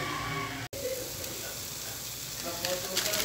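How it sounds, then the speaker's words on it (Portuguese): Meat for yakisoba fries in a pan with a steady, close sizzle, broken by a brief dropout. The hiss grows a little brighter near the end. "eu tô aguardando aqui a carninha fritar"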